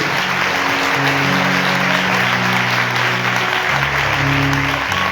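A church congregation applauds at a live worship youth conference in Islamabad, continuous close, loud clapping with a sustained musical drone or keyboard tones beneath it.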